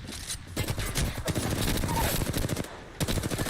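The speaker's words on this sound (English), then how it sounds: "They're shooting at me!" Video game gunfire rattles in rapid automatic bursts, loud and dense, with short gaps between volleys and no talk over it.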